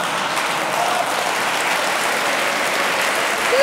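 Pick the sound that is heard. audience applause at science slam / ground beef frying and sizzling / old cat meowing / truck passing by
audience applause at science slam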